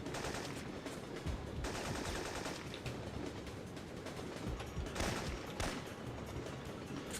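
Rapid bursts of automatic gunfire from a video game, including a G11 rifle, crackle in a dense, continuous barrage with a few louder volleys standing out.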